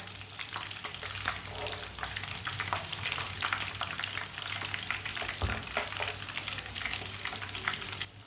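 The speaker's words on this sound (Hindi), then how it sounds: "अब इसे उल्टाते हुए ना 2 मिनट के लिए पका लेंगे" Chicken kebabs fry in a pan after being turned, a dense, even sizzle with crisp spattering crackles throughout, nearby and moderately quiet, with a low hum underneath.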